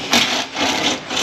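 A 13 mm bolt turned out of a Ford Transit 3.7 with a ratchet or wrench, heard as a close, steady grinding rasp in quick strokes, loud and alone.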